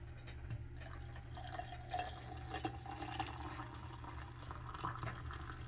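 Just-boiled water pours into a cup over coffee and creamer in a soft, steady trickle, quiet and close, with faint low background hum.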